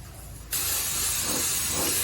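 A spray gun starts abruptly and lays chrome onto a small plated part, giving a loud, steady hiss that holds after a quiet start.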